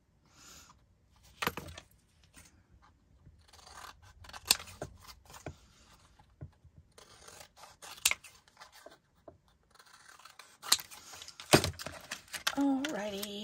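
Scissors snipping around a paper card piece during card making, with sparse, irregular quiet cuts and small paper rustles close by, a few sharper snips standing out.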